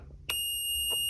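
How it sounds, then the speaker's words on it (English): A pH controller alarm sounds a sharp, steady high-pitched electronic tone that starts abruptly and holds, loud and close, alongside a couple of faint clicks or knocks. "And I'll just silence the alarm."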